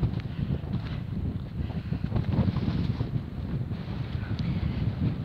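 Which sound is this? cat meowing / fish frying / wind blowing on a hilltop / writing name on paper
wind blowing on a hilltop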